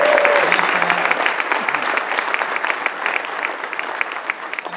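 Audience applause at a men's club dialogue program honoring a cantor and pianist, a dense steady wash of clapping that holds for the whole stretch and eases only slightly toward the end.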